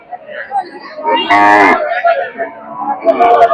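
A local heifer lets out a loud, drawn-out moo amid people talking nearby, with the busy chatter of an outdoor cattle market in Sakhipur, Tangail.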